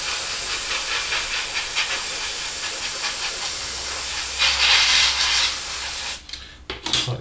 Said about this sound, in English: we just turn the old compressor on, we're running out of air